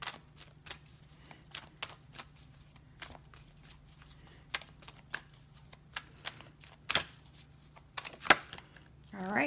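A deck of fortune-reading cards is shuffled by hand, giving crisp, irregular riffles, flicks and soft taps that sound close and quiet over a low background hum.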